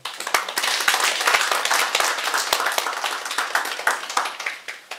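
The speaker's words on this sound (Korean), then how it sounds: "박수 한번 주세요" Listeners at a mind-study training lecture give a round of applause, a dense, lively clapping with distinct sharp claps standing out, loud and close, fading slightly toward the end.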